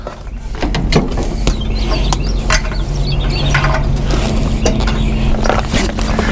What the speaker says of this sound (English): I'm gonna undo these bungees.